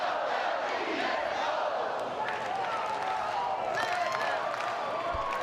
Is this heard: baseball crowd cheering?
yes